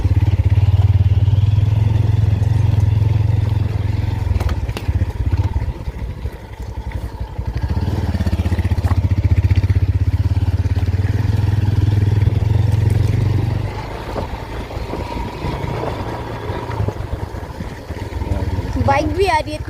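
Motorbike ride on the road from Barmas to Jutial, a steady low engine drone running nearly throughout with some clatter, close and fairly loud, while people talk over it.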